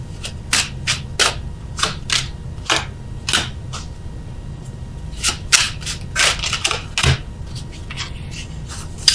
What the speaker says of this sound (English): I just feel like getting the cards down for you guys first.